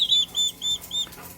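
Chickens and small young turkeys on a farm let out four short, high, evenly spaced peeping calls close by, with quiet gaps between them.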